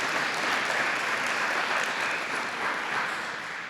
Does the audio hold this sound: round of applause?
yes